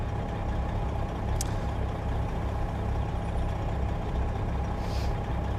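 A Cummins ISX diesel truck engine sound mod in a trucking game idles with a constant heavy low rumble, joined by a sharp air-brake hiss and a faint later puff of air.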